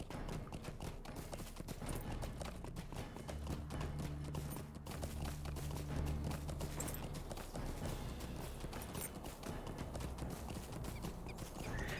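A mounted horse gallops in the fantasy online game LOTRO, its steady rapid hoofbeats running continuously alongside game ambience, with no talking.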